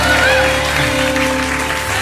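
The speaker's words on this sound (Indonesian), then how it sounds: "Coba tepuk tangan" A studio audience on a television comedy show claps in dense, steady applause, with sustained musical tones running underneath.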